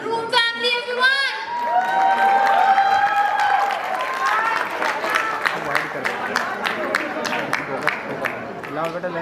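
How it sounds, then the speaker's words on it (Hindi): Loud applause and cheering from a crowd at a sangeet ceremony for the groom's family, with whistles, shouts and dense clapping rising under and after an announcer's voice. "तो एक बार जोरदार तालियां हो जाए for the groom family everyone."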